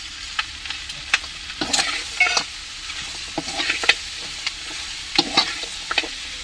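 Ginger garlic paste sautéing in a pan for chicken feet gravy, a continuous sizzle broken by repeated scraping and clattering stirs, close and clear with no voices.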